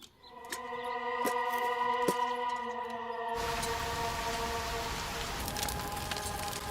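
Rain falling steadily around a house, a dense, even hiss that sweeps in and fills the clip after a few seconds of tonal sound.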